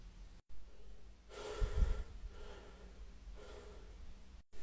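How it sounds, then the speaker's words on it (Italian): A patient breathes deeply during a doctor's examination, drawing air in through the nose and out through the mouth: two soft, airy breaths, close and unhurried, with quiet pauses between them. "Inspiri col naso ed espiri con la bocca"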